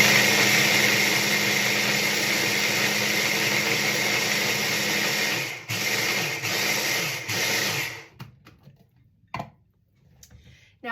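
A blender pureeing sage pesto with generous olive oil whirs steadily and loudly, then stutters through a few brief pauses before stopping, leaving a few faint clinks and small sounds at the end.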